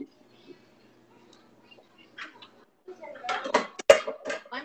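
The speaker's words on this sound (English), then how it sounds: "I'm switching pans because I think I have an 8-inch pan." Pans and kitchen utensils knock and clatter as a crepe pan is swapped out, faint scattered taps at first, then a louder burst of metallic clanks and scrapes near the end.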